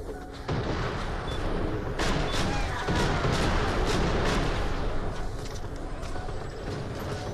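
Gunfire from a weapon in a video game, a dense, continuous barrage of heavy booming shots and crashes that stays loud and close throughout.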